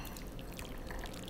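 Boiling water is poured onto red gelatin powder for a pomegranate panna cotta, a soft continuous stream splashing quietly and close with no pauses.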